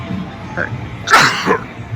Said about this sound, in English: Oh, I'm sneezing.